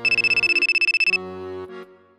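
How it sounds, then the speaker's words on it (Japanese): A phone rings with an incoming call, a rapid warbling electronic ringtone pulsing about a dozen times, then a short sustained melodic tone, close and clear with no voices. "電話がかかってきた"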